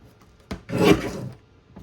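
A paper trimmer slices through a card panel for a chocolate card kit, a brief close scraping rasp of the blade sliding across, preceded by a light tap.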